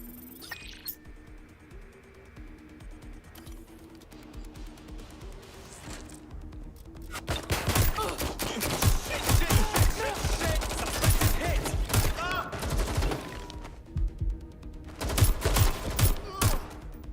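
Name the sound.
gunfire in the video game Watch Dogs Legion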